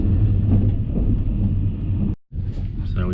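A steady low rumble of a moving overnight first-class train from Chiang Mai to Bangkok, continuous and close, briefly cutting out before resuming.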